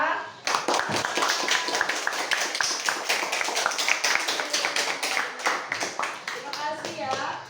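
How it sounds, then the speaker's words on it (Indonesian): A classroom of students applauds after a group receives a prize, dense rapid clapping from many hands sustained for several seconds at steady loudness, with a few faint children's voices mixed in. "Mari kita beri aplaus, ya."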